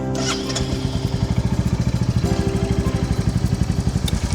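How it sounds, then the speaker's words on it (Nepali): A Royal Enfield Goan Classic 350 motorcycle starts, then settles into a loud, close single-cylinder idle with a steady, rapid thumping beat. "मेरो नयाँ बाइक है अनि एकचोटि अब म यसलाई स्टार्ट पनि गर्छु है"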